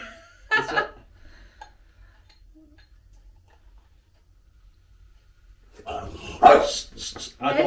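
A pair of elderly pet dogs at a camper van on New Year's, with a short bark burst near the start and louder barking later mixed with voices.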